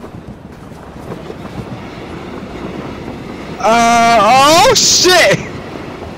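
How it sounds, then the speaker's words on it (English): A train in H1Z1 on PS4 roars past with a loud, bending horn blast lasting about two seconds over a rumbling, windy background, and someone shouts once during it. "Oh, a train."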